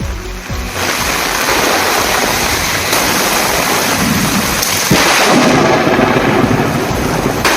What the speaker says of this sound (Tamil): இடியுடன் கூடிய கனமழை பெய்தது